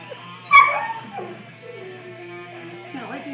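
A Weimaraner puppy lets out a sharp yip followed by soft, drawn-out whimpers and whines, close by and fairly quiet, with a person's voice in the background.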